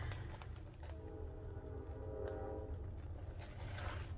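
Train passing on railroad tracks a couple of blocks from a residential home, a steady low rumble with a horn tone rising near the middle, moderately distant and continuous.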